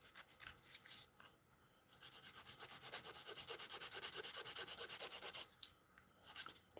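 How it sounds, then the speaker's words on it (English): Acrylic stiletto nails are filed in quick, even back-and-forth rasping strokes, close and bright, one long burst flanked by shorter bursts and pauses, with no voices. "I know filing can get kind of boring, especially if you're live doing it"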